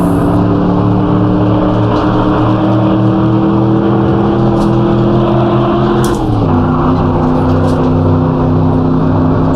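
A racing car engine in the Assetto Corsa video game droning loudly at steady revs, then dropping in pitch with a brief dip as it downshifts to second gear before settling into a lower hum.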